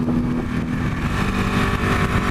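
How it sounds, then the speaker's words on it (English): Ducati Panigale 899 motorcycle engine from a 2015 model, a steady loud rumble heard up close while riding, with wind noise mixed in and no talking. "here I am on the absolutely awesome Ducati Panigale 899"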